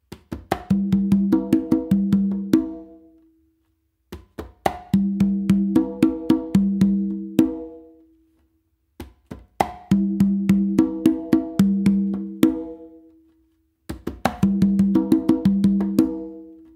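Conga tumbao pattern with sharp slaps and open tones, played in repeated bars with short pauses between them, clear and close.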